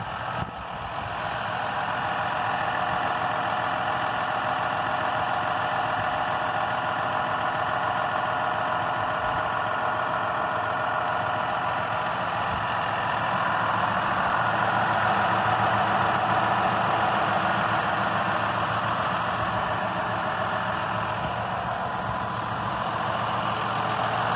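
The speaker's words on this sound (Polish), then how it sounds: "Silnik chodzi pięknie, przepięknie." A 2016 John Deere 6150R tractor engine idles steadily, a loud, continuous low rumble with a constant mid-range drone that holds without change throughout.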